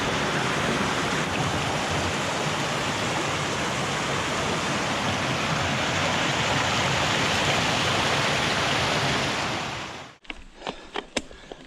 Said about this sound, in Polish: Potoczek nazywa się Bystra. Pasuje ta nazwa, Bystro płynie.